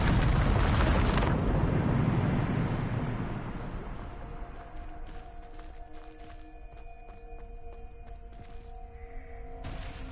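A Bombarda explosion spell in the Hogwarts Legacy video game erupts as a loud, close blast that rumbles and decays over several seconds into ringing magical tones.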